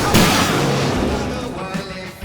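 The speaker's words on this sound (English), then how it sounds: "I can set off more of the fireworks from here!" Fireworks bang and crackle in Alan Wake Remastered during a fight, a loud burst up front followed by a sustained rumble of blasts, with shouting voices mixed underneath.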